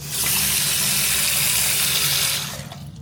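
A hotel bathroom tap in Phuket is turned on and water gushes steadily and loudly into the basin for a few seconds, then eases off.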